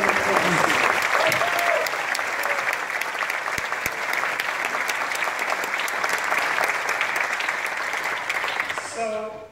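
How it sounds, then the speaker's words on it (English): Sustained audience applause at an evening school concert honoring music teachers, dense steady clapping filling the room throughout, with brief voices near the end as it tapers off. "Let's give them a round of applause"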